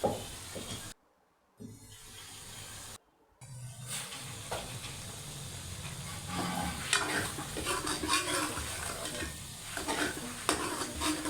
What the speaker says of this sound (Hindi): मिर्च को अच्छे से मिक्स कर लें